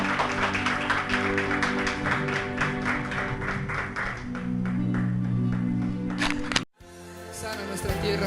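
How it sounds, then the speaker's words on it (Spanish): A church congregation applauds over sustained worship music, the clapping fading out before a brief cut and the music continuing. "Dale un fuerte aplauso a nuestro Señor."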